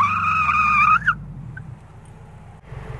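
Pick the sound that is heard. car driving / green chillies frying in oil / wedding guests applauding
car driving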